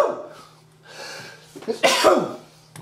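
A person sneezes in a workshop, with a sharp, loud burst following quieter breathy sounds and a faint hum.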